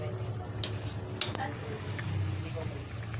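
Stirring okra, mung beans, tinapa smoked fish and alugbati in a pan, with soft scraping and a few sharp utensil clinks against the pan over a low steady sizzle.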